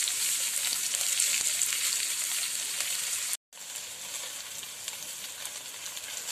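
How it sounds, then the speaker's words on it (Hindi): Okra frying in a pan for a masala bhindi dish gives a steady, loud, bright sizzle that continues throughout, broken once by a brief moment of silence before the frying resumes. "6 से 7 मिनट हो गए भिंडी को फ्राई होते हुए"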